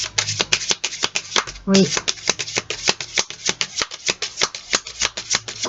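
Oracle des moments mystiques cards are shuffled by hand in close, crisp, rhythmic riffles and slaps, repeated steadily throughout. A voice speaks briefly partway through.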